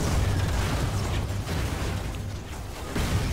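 Explosions from the online vehicle-combat video game Robocraft, a dense run of blasts, pops and mechanical rumbles that stays loud throughout, with a fresh burst near the end and no talk.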